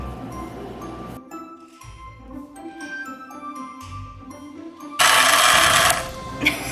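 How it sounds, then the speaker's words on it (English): An electric hand mixer beats chocolate chip cookie dough with a steady motor whine, then shifts into a louder, harsher grinding burst for about a second near the end. "I'm gonna give the mixer another chance at this"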